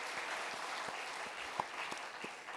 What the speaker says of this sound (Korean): 우리 하나님 앞에 영광의 박수 올리겠습니다